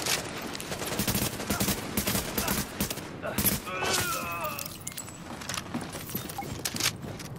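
Gunfire in The Division on Xbox One: a string of sharp, loud shots in quick bursts and single cracks over a busy, noisy fight, with some faint talk mixed in.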